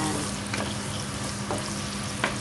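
Squid adobo cooks in a pan with a steady, close sizzle and a few soft clicks and pops scattered through it.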